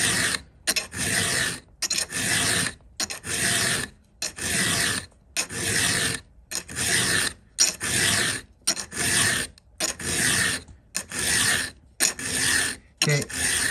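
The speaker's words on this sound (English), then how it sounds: "I'm just going to sharpen." A hand file sharpens a chainsaw chain up close in about a dozen evenly spaced rasping strokes, each a gritty scrape of roughly half a second to a second, separated by short silent pauses.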